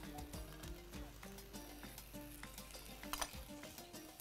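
Onion, minced garlic and vegetables fry and sizzle quietly in a pan, with soft crackling and occasional stirring clatter of a utensil against the pan, no talking heard.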